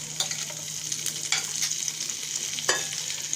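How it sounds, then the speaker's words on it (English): Chopped garlic and green chilies frying in oil and butter, a continuous gentle sizzle broken by several brief stirring scrapes, heard up close without speech. "Chopped garlic going in. Along with that, a few green chilies."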